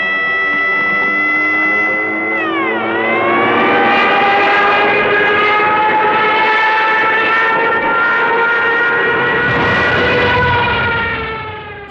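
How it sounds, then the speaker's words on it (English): Droning piston engines of WWII German Luftwaffe bombers such as Stukas, Heinkels and Junkers fill the air, a loud sustained multi-toned hum that shifts pitch as the planes pass, joined by a rising siren-like wail. "Stukas, Heinkels, Junkers,"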